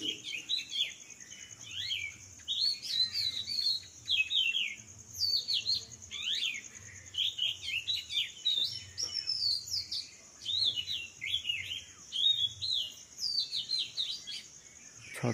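Many birds chirp and tweet in a village in the early morning, a steady stream of bright overlapping calls at moderate distance with faint insect buzzing underneath.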